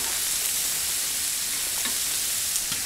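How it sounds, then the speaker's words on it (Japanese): Leftover vegetables and mushrooms frying on a grill at a lakeside auto campsite, giving a steady, close sizzle throughout with faint crackles and no talk. "なんとなく残った野菜も焼いちゃう？"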